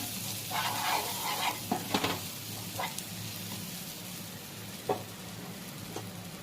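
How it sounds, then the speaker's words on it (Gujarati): Oil and butter with pav bhaji masala, Kashmiri red chilli and green coriander stirred in a pan: a steady quiet sizzle broken by several scraping strokes of a spatula and an occasional knock. "તેલ નાખ્યું, બટર, પાવભાજી મસાલો, કાશ્મીરી લાલ મરચું અને લીલા ધાણા આ બધું બરાબર મિક્સ કરી"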